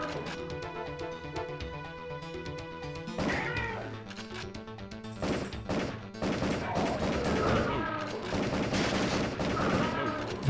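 Gunfire from the PS1 game Area 51, played with a Justifier light gun, comes as sharp bursts of shots and crashes over game music and effects, loud and close, with talk in places.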